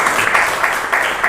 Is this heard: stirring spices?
no